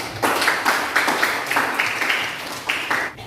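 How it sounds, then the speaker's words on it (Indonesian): A classroom of children clapping hands in an Islamic religious education lesson, a fairly near burst of rhythmic, slightly uneven group clapping in repeated beats. "Tepuk tangan untuk semuanya"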